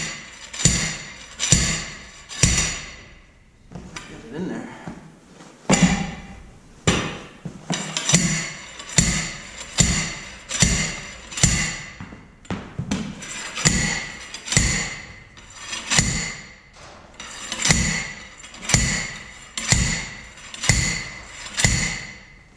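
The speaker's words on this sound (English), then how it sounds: "so I got this slide hammer bead breaker thing" Repeated heavy metallic slams from a slide hammer bead breaker striking a tire in a steady rhythm, loud and close, dozens of blows with brief pauses.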